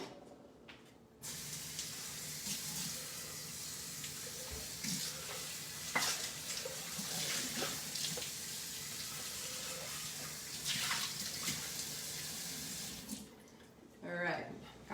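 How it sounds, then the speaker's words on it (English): Tap water runs into a sink while a food processor is rinsed out in a home kitchen, a steady splashing stream with clatters and shifting spray, stopping near the end. "I'm gonna get my food processor kind of rinsed out here"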